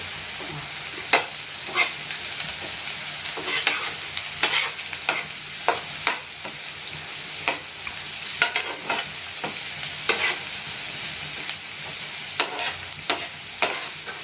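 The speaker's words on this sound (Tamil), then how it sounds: "இப்போ நாலு பீஸ் பட்டரை இதெல்லாம் ஆட் பண்ணணும் பட்டர் உருகி" Four pieces of butter melt and sizzle in a pan for pav bhaji, a continuous close hiss and crackle broken by repeated scraping strokes of a spoon, with no voices.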